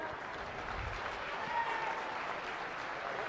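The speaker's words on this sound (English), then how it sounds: "Let's go ahead and give these young people a big round of applause." Applause for young showmen at a county youth livestock swine showmanship event, a steady, moderately faint patter of clapping from a crowd that keeps an even level throughout.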